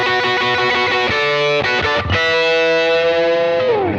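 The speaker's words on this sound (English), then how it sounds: "That crunchy, overdriven Vox AC30 is screaming." Overdriven electric guitar through a cranked Vox AC30 amp playing the opening of a song: loud, crunchy distorted chords ringing out alone, with a short choppy break midway before a long sustained chord.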